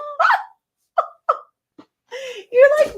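Several short throaty burps after drinking soda, close and fairly loud, spaced out over a few seconds, with a longer voiced belch and some laughter-like vocal sounds at the end.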